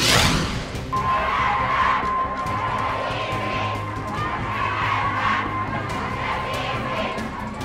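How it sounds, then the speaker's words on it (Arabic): Women cheer and ululate at a meeting with Egyptian president Sisi, a dense crowd roar with a sustained high trilling tone running through it, loud and continuous from start to finish. "هتافات وزغاريد في لقاء السيسي بعدد من مؤيداته"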